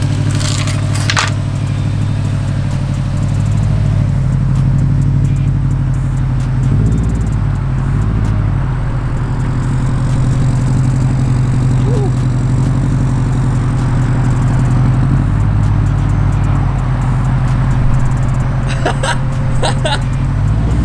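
A car with a steady low engine drone rolls slowly out of a driveway, close and loud for about twenty seconds. Faint clicks and scrapes sit on top of the rumble.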